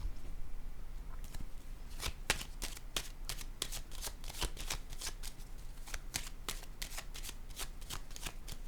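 Tarot cards being shuffled and laid out, a steady run of quick crisp riffling snaps over a low background hum, with no talking.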